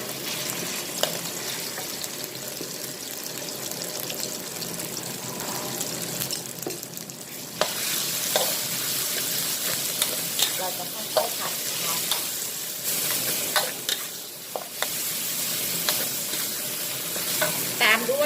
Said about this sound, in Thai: จากนั้นก็นำน้ำพริกนะคะ ลงไปผัดได้เลยค่ะ ผัดให้หอมนะคะ